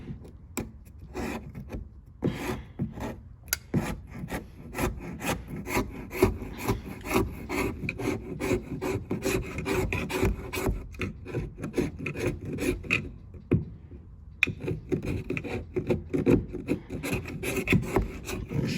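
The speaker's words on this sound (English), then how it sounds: "And scrape and scrape and scrape and scrape. And scrape away at it." A hand scraper fitted with a blade is pushed repeatedly across a surface during a tr6060 transmission install on a 1967–69 Camaro, giving steady rasping strokes in a fast, even rhythm, close and moderately loud, with a short pause partway through.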